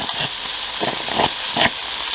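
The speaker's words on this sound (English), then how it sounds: "the minced tomato paste and carrots have been cooking now for a further minute, and it's time to add the finely chopped tomatoes" Minced tomato paste, carrots and chopped tomatoes cook in a pan for a Hello Fresh Italian penne ragu al forno, giving a steady close sizzle with a few brief louder bursts of stirring.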